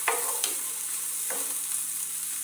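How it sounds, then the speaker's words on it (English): Onions frying in oil in a pan, with a steady sizzle throughout and a few brief louder scraping stirs near the start and middle. No one speaks. "Let's go ahead and give our onions a stir."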